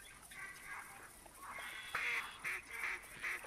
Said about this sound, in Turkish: Arkadaşlar ördekler geliyor şu.